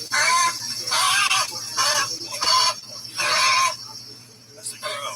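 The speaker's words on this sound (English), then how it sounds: "That's the crow." A crow calls repeatedly from a video played back through speakers, harsh bursts in an irregular rhythm with a steady hum underneath.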